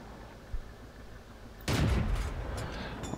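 A single sharp, loud tank cannon blast from World of Tanks, fired by a Marder II tank destroyer, erupts after a short quiet stretch and rolls into a long rumbling decay.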